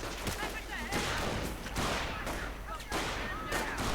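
Rifle shots ring out during a World War II strategy game battle, with Panzer Grenadiers moving through buildings, several sharp cracks layered over dense continuous battle noise and overlapping game sound effects.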